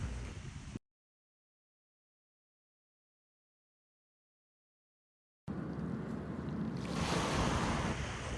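Small waves lapping at a lake beach with wind buffeting the microphone, steady and close, broken by a long silent gap in the middle before the water and wind return louder.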